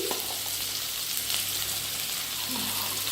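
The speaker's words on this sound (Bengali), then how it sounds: "আমি গাজরটাকে আগে ভেজে নিচ্ছি" Carrots sizzle steadily in hot oil in a pan with whole spices such as cardamom, a continuous, moderately loud frying hiss with faint stirring.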